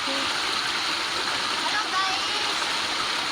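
A forest stream rushes and splashes continuously, a steady broadband water roar close by with no breaks.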